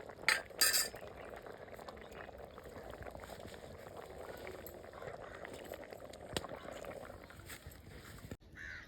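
Country chicken curry in a watery Erode-style gravy simmers in a pot, giving a soft continuous bubbling with a few light metallic clinks of a utensil, fairly quiet and close.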